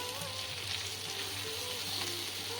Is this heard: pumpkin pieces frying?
yes